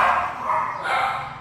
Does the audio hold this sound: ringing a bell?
no